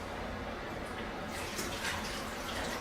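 Water running from a sink tap while a basin is rinsed, a steady close hiss of flowing and splashing water throughout.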